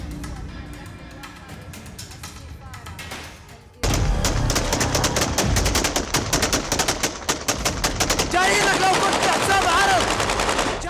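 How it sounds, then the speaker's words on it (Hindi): Celebratory gunfire by rebel fighters in Syria: bursts of automatic fire and rapid shots ringing out loud and dense, growing heavier after a quieter opening, with shouting voices mixed in. "जीत की खुशी में खुलेआम फायरिंग हो रही है।"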